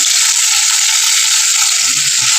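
Cumin and coriander fry in a hot pan for a winter soup, giving a loud, steady, close-up sizzle that continues unbroken throughout.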